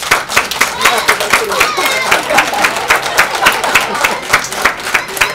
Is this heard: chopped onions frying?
no